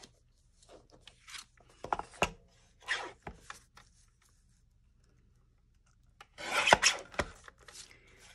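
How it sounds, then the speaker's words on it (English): Paper trimmer cutting paper at a desk, a few short scraping rasps spaced apart with quiet gaps between, close and fairly soft. "Maybe I should just use the trimmer because I'm already having to cut it again anyway."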